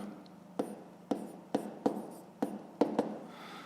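An equation is written by hand, apparently with pen on paper, heard as a close, quiet series of about eight short scratchy strokes spaced unevenly, with no talk over them.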